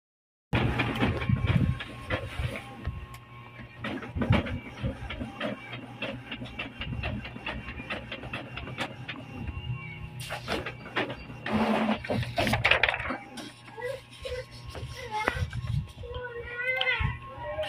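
An Epson L360 inkjet printer prints a single page, its mechanical whirring, clicking and carriage movements heard nearby over several seconds, with children's voices in the background.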